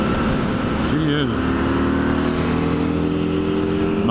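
Harley-Davidson LiveWire electric motorcycle, 2022 model, accelerating in a rolling test on a road with traffic; a steady motor whine rises in pitch around the middle, continuous under wind and road noise.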